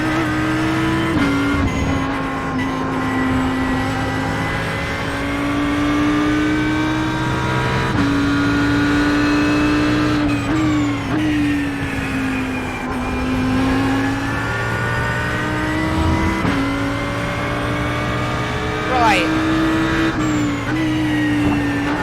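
An Audi GT3 race car engine on the Laguna Seca circuit in iRacing, a loud steady howl rising and falling through gear changes across a lap, with occasional tire squeal.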